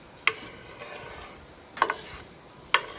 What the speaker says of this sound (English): We're gonna stir him up, right? We're gonna let this sizzle up for just about a minute or two